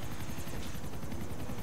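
A helicopter in the video game GTA 4 drones with a continuous rotor whir and rapid, pulsing thump, steady and fairly close, with no speech.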